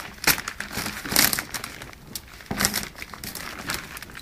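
Plastic vacuum infusion bagging film crinkles as it is pressed down onto sealant tape, giving irregular close crackly rustles in several bursts with no talk.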